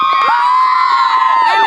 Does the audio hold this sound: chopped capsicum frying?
no